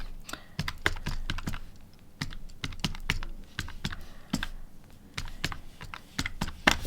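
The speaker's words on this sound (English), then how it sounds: "If I can hit the right keys." Rapid typing on a computer keyboard, with irregular bursts of crisp key clicks close to the microphone and short pauses between runs of keystrokes, and no talking.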